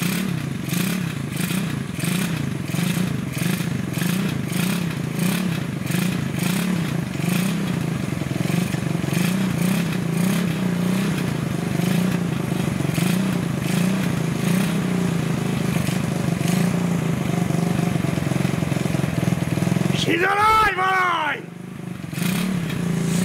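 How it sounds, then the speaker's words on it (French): A small 125cc motorcycle engine runs continuously with a rapid, steady, loud putter and metallic clatter, then briefly rises in pitch as it revs near the end before dropping away. "elle a démarré la petite 125"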